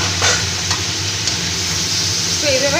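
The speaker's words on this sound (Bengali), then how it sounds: "চিকেনটা একটু ভেজে নিলে ভালো হবে। এটাকে আমি এইভাবে ভেজে নিলাম," Chicken pieces fry in hot oil in a Bengali home kitchen for chicken kosha, making a loud, steady close sizzle with faint background hum and a brief tonal squeak near the end.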